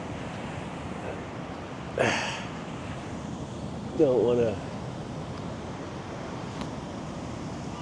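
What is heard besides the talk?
ocean waves on the beach at Da Nang, Vietnam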